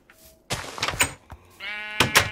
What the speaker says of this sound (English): How you doing, donkey?